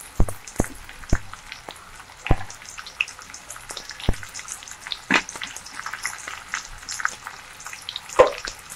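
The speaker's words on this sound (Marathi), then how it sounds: "आता मी ह्या मिरच्या टाकते 2. लगेच आपल्याला टाकायचा आहे हा कांदा." Green chilies and onion fry in hot oil for dhaba-style veg fried rice, throwing off sharp, irregular pops and crackles over a light, steady sizzle, close by with no voices.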